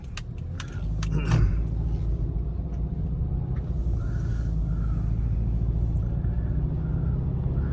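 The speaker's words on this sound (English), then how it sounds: "Smooth shifting, great acceleration, perfectly straight steering wheel." Steady engine drone and low road rumble from inside a 2011 car on a test drive, holding an even, continuous level as it pulls along, with no talking.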